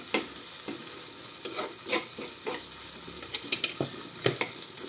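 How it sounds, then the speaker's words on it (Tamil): Crushed ginger, garlic and fennel sautéing in a pan with steady sizzling and frying, broken by regular scraping strokes of a spoon stirring, close and moderately loud, with no voices. "இப்போ இது கூட இஞ்சி பூண்டு சோம்பு மூணுமே தட்டினது இதை இது கூட போட்டு இதையும் வதக்கிக்கலாம்."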